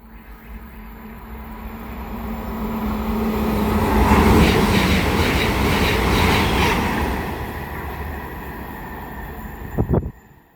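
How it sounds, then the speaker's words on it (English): A Great Western Railway IET electric train running from London Paddington to Oxford passes through Goring & Streatley on the Great Western Main Line, its roar swelling to a loud peak midway before fading, with a couple of sharp clacks near the end. "It's going to be another Great Western Railway IET from London Paddington to Oxford."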